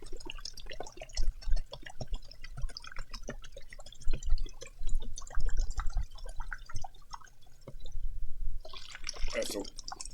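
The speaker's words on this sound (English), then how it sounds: "you slowly funnel your water in there without dribbling it" Distilled water poured slowly through a funnel, a close, quiet trickle of drips and splashes heard under a person talking, with a brief brighter burst of noise near the end.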